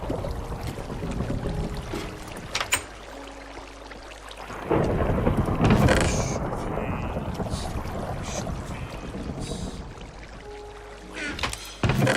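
Thunderstorm in the video game Minecraft: steady rain hiss with a loud rolling thunder crash around the middle that slowly fades back into the rain.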